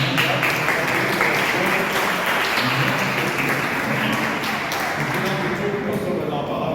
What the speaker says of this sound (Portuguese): Vamos dar uma salva de palmas aos nossos irmãos.